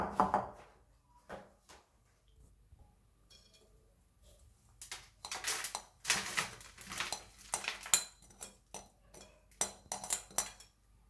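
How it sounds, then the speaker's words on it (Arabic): Biscuit crumbs are pressed and spread into a cheesecake mould, making soft scraping taps, then denser clinks and scrapes from a utensil against the mould, close and fairly quiet. "دابا غناخذوا المول ديالنا وغادي نديروا فيه هاد البسكوي"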